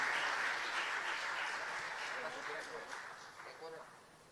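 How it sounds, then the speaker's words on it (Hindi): An audience claps steadily to welcome an honoree at an official ceremony, dense applause that slowly fades out, with a voice speaking faintly at the end. "तालियों से स्वागत करिए"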